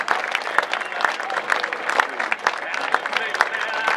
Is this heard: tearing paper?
no